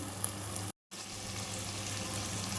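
A spice mixture sizzles steadily in hot oil while cooking nattu kodi pulusu, a close, even frying hiss that cuts out for a brief moment and then resumes.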